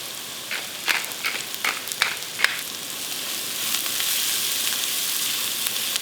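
Onions fry in a pan with a steady, close sizzle, crackling sharply at first as they hit the hot oil, then settling into an even hiss.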